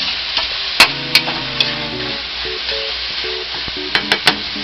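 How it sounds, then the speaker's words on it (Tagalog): Pork and chicken pieces sizzle steadily in a hot frying pan, a loud continuous crackle close by, with a few sharp clinks and scrapes of a utensil stirring the meat and no talking. "hayaan muna natin saglit para maluto yung ating pork at chicken"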